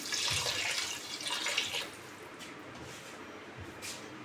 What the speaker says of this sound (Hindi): शामिल करेंगे इसमें 1 गिलास पानी।